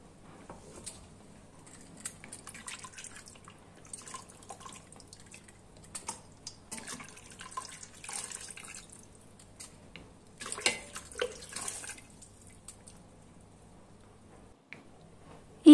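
Bone broth made with marrow bones is poured through a strainer, giving soft, irregular trickling and dripping liquid sounds close by, quiet throughout, with a louder splash or clink at the very end.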